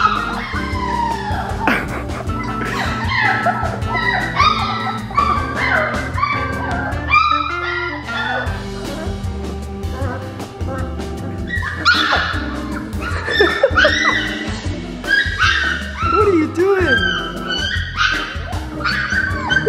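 Several Labrador puppies bark, yip and whimper in quick, overlapping bursts for the whole stretch, close and lively, with a voice talking softly in places.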